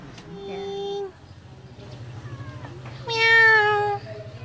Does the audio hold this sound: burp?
no